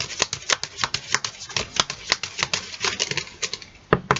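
A deck of tarot cards shuffled by hand, giving a rapid, steady run of crisp riffling slaps and flutters, close and clear with no talking.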